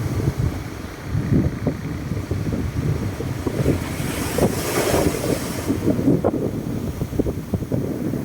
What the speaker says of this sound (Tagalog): nandito sa tabi ng dagat. Mahangin.